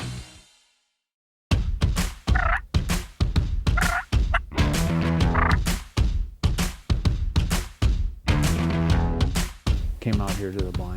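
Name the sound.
wild turkeys gobbling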